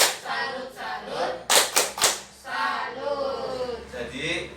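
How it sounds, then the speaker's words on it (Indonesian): Indonesian group in a training session doing the rhythmic 'tepuk salut' clap cheer, a few sharp clustered claps amid chanting voices that carry on around them. "Sekarang tepuk salut buat yang sudah memberanikan diri untuk presentasi."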